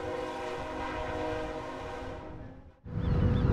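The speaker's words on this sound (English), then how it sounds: "The train tears through vast farmland and small towns." Freight train known as the Beast rolling through farmland, a steady loud rumble and rattle of cars that dips briefly, then surges back heavier and closer, with no voices.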